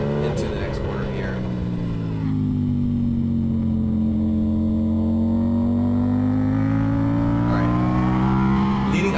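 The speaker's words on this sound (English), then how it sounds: "You want to be able to get on the gas and then accelerate into the next corner here." A car accelerates on track at Circuit of the Americas, its engine note rising steadily in pitch and loudness as it pulls toward the next corner, heard from inside the cabin.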